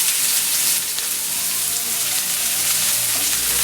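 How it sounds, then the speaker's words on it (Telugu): Onion pieces frying in hot oil for Hyderabad-style ginger chicken, a dense, steady close sizzle with no pauses. "ఈ ఉల్లిపాయలు నూనెలో వేగాలండి."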